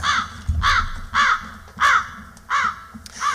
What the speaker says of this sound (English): maybe now and then a crow flying by.